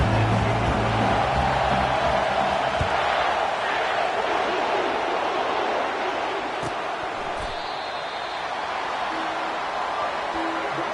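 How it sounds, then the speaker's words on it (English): A stadium crowd in the football video game NCAA 2K25 roars in a dense, sustained wash of noise, with a commentator talking over it. "They challenge this crowd to bring the energy, and I'd say they're doing that."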